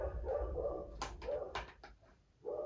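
A dog barks several times in short bursts in the background, with a faint whimpering tone, against outdoor wind noise at a disc golf setting.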